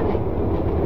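A Darjeeling Himalayan Railway toy train, a line dating from 1879, runs slowly on its tracks at no more than 15 km/h, giving a brief, close, steady rumble of wheels and carriages.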